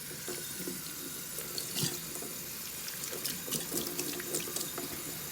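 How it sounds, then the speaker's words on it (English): Tap water runs steadily into a sink while beauty sponges are washed with a solid cleanser, a continuous close splashing stream with small shifts in its flow and no talk. "now what I'm going to do is run the water"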